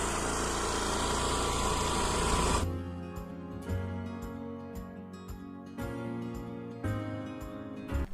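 A loaded scooter engine runs on a mountain road in Uttarakhand near Devprayag. A loud, wind-buffeted drone gives way to a steadier engine hum with intermittent bumps and knocks.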